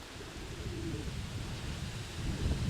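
Pigeons coo low and soft in an open outdoor spot, a faint murmuring under steady wind rumble that swells toward the end, with no one talking.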